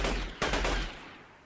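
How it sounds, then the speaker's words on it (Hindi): Gunfire in the video game Delta Force: a loud, close, rapid burst of several sharp shots, then a fading echoing tail, with no talking. "कहीं से तो गोली चल रही है।"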